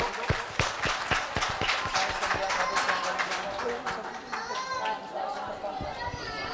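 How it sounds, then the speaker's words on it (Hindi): Audience clapping in welcome of a Vedic Brahmin guest at a Bhagavat Katha closing ceremony in Wazirabad, Delhi, heard as a dense run of sharp claps with crowd chatter, fading into a sustained tone and murmur. "जोरदार तालियों से इनका स्वागत करेंगे सभी लोग।"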